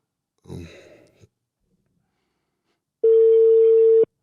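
A soft breathy sigh is followed after a pause by a single loud, steady ringback tone on a telephone call, lasting about a second before cutting off abruptly.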